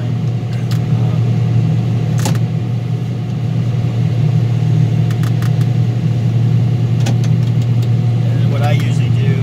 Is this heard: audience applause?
no